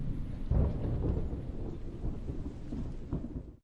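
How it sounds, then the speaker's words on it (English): A thunderstorm rumbles low and continuous, with several heavier rolls and faint rain hiss underneath, distant and fairly quiet with no voices. "when thunder roars"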